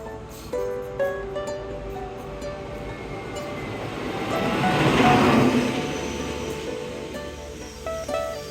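A packed train rolls along with a steady rumble and rattle, the noise swelling midway as it passes something, with no voices heard.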